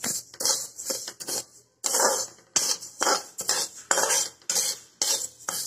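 Stirring moong dal halwa in a pan, a series of rhythmic scraping strokes of a spoon against metal, close and fairly loud, about a dozen strokes in quick succession.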